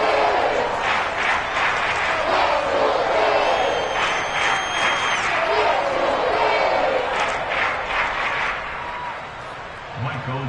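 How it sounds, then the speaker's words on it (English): A stadium crowd in a Madden football video game shouts and roars continuously, a dense, loud wash of cheering under commentary that fades somewhat near the end. "Plenty of shouts from this crowd as they watch the replay."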